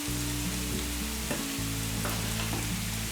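Chopped onion frying in a pan for a Turkish-style zucchini and meat dish, a steady close sizzle with occasional stirring clicks and no voices.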